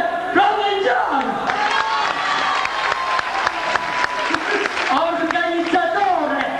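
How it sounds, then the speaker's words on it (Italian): A crowd at an Italian stage show applauds and cheers continuously, dense clapping mixed with shouting voices, loud and close throughout. "Ora, tutti applaudiamo il fiore provenzano."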